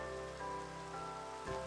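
Steady rain falls in Minecraft as an even, continuous patter that holds at a constant level from start to finish, with no voices.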